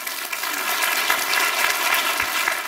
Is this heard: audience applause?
yes